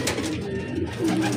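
A racing pigeon arriving at its loft coos in soft, low, throaty murmurs, close by and continuous over a short moment with no talking.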